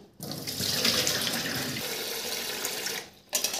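Taro roots are rubbed and washed under a running kitchen tap, a steady splashing rush of water that starts abruptly, continues for about three seconds, cuts off, then resumes briefly.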